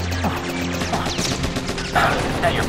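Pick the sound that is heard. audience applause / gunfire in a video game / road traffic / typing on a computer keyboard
gunfire in a video game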